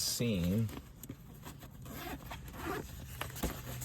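Zipper on an Angling Direct Advanta luggage bag dragged back and forth in a few quick runs, close and fairly quiet, with a brief voice at the start.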